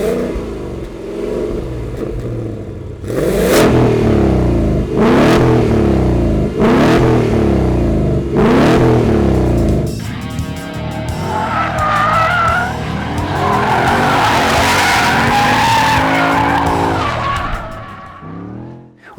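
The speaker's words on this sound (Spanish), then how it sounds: "vamos a escuchar cómo suena." A 2022 Ford Mustang GT California Special V8 roars through a series of sharp revs, each rising and dropping back, then a sustained high-pitched run with engine strain and tire noise, loud and close with no talk.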